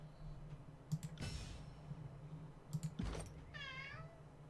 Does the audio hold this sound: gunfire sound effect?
no